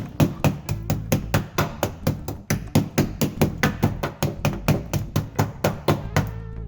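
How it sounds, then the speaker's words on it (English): The pointy end of a body hammer taps steadily on the rusty floor pan of a Chevrolet Corvair Corsa, producing a long run of quick, even, close metallic knocks, about four per second, with no voices. "I'm just using a pointy end of a body hammer."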